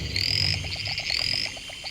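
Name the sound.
tree frogs calling in rainforest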